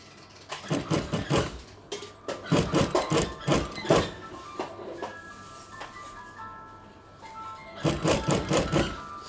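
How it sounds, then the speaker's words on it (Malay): A sewing machine stitches around the neckline of a baju kurung Kedah in several short, loud, rapid bursts separated by pauses, with light handling clicks between runs. "So kita boleh jahit lah keliling dia."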